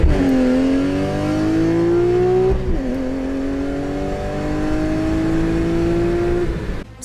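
A loud car engine revs up and holds a rising, droning pitch, eases off briefly, then climbs again with a raspy, aggressive exhaust note.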